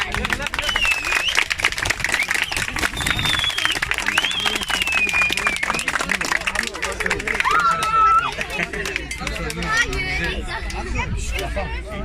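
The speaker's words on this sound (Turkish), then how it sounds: "alkış" A park concert crowd of street performers' listeners in Bağcılar claps amid lively chatter and cheering, with whistles and voices rising over a continuous, busy outdoor clatter of hands.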